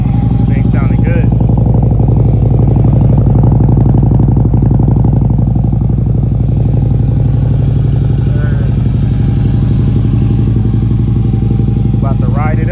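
A 2014 Harley-Davidson CVO motorcycle, a salvage-auction bike, starts up for the first time and settles into a loud, steady, lumpy V-twin idle with a deep throbbing pulse throughout, while people talk over it.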